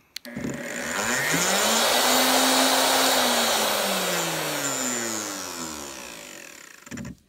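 A vacuum clears sawdust from a keyhole slot cut in a shelf, a steady close whine that rises and holds, then slowly falls away before cutting off.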